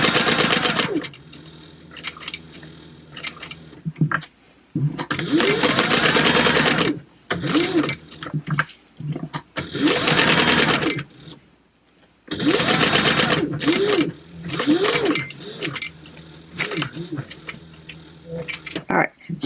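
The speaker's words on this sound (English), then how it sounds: "I'm going to do my top stitching." A sewing machine topstitching fabric runs in several bursts of rapid mechanical stitching, separated by short pauses, close and fairly loud.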